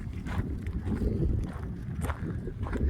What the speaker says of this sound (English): A little bit of wind today.